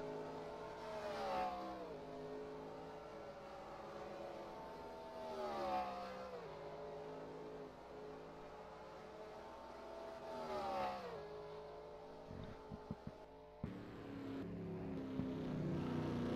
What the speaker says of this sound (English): Final couple lead lap cars coming around to finish.